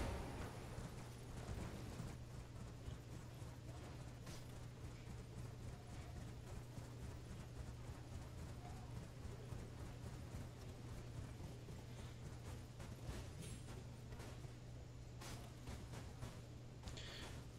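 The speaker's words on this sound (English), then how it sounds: "So let's get going there on our horse." A horse's hooves in Elden Ring, a steady rhythmic clopping under a low constant drone and game ambience, continuous at moderate level throughout the ride.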